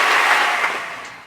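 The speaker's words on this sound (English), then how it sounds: "Let's clap it up for all the people you've ever worked with." A short burst of audience applause, a dense patter of clapping hands that starts full and fades away over about a second.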